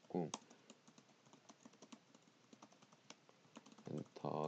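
Computer keyboard typing, a quick run of light, close key clicks with a louder press near the start, and a voice talking briefly at the beginning and the end.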